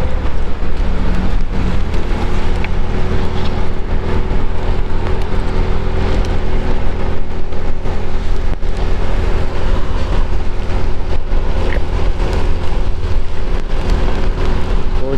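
A motorcycle rides at night through light drizzle between Tegal and Brebes, with a loud, unbroken rumble of engine, wind and road wash running throughout.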